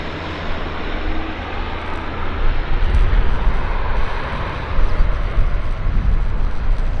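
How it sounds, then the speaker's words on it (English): A Saab 340 turboprop passes low overhead while landing at Vancouver airport, a steady, broad roar that builds and surges, close and loud, with no talk. "Saab 340 landing right here, right above my shoulder."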